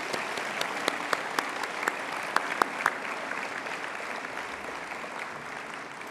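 Students at a school ceremony applaud their teachers, a steady dense clapping from a large group that carries on evenly with a few sharper claps standing out near the start.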